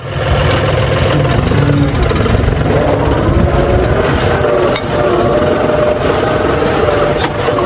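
A diesel tractor engine runs steadily in a farm field, a loud, continuous low rumble with mechanical knocking that stays constant throughout, with no talk over it.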